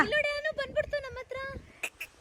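A duck at a fishing pond on a rainy day near Sakleshpur gives two short, raspy quacks close by, right after a stretch of a voice speaking.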